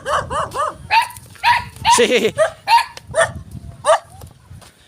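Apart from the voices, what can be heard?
dogs barking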